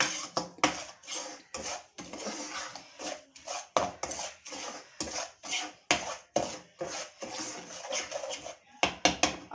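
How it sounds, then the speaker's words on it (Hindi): Sugar being stirred into roasted gram flour in a pan for egg halwa, heard as irregular scraping and clinking of a spoon against the pan in uneven bursts, close and moderately loud with no talk. "चीनी को अच्छी तरह से इसमें मिक्स करेंगे।"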